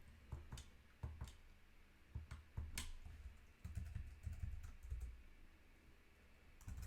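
Fingers type on an unusual computer keyboard, an irregular run of close, sharp key clicks and thumps with short pauses, alone with no talk.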